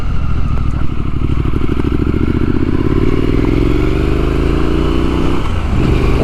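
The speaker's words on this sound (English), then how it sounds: "Listen to that engine, man." A Triumph Scrambler 900 motorcycle engine runs loud and close, its throbbing note climbing steadily as the revs rise, then dipping briefly near the end.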